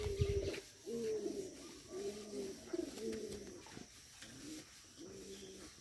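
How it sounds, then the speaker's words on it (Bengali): A Giribaz pigeon coos in a steady series of low, throaty phrases with brief pauses between them, close and fairly quiet. "অনেক সুন্দর একটা কবুতর"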